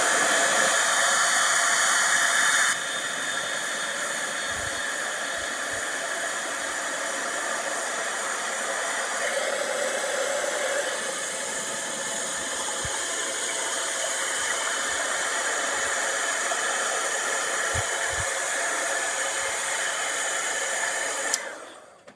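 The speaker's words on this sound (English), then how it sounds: "And then heat emboss this." A heat gun blows a steady, close hiss while heat embossing a stamped card, running continuously for about twenty seconds with a slight change partway, then cutting off at the end.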